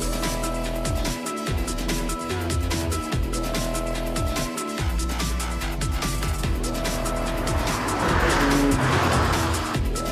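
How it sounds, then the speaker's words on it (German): A BMW M3 sedan or M4 coupé driven hard on a race track, its engine roaring loudly and continuously while the tires squeal and skid through the corners. "Und ich mag auch das Geräusch innen drin vom Motor. Der hört sich super an."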